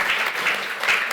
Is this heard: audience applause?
yes